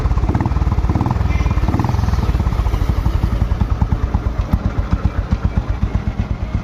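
An old single-cylinder 1987 Bullet motorcycle engine thumps in a loud, steady, rhythmic beat close by, its pulse slowing slightly toward the end.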